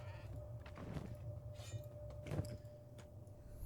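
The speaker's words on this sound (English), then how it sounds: "They're getting beat up by a goat." Goat bleats in the sandbox RPG Kenshi while characters fist-fight it, the calls rising over a steady game-sound backdrop with a couple of louder bleating bursts.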